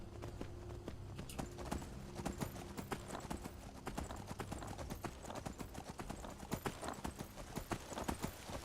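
Steady clip-clopping of horse hooves at a trot in Skyrim, rhythmic and continuous, with a low background hum, like a horse being ridden in a game.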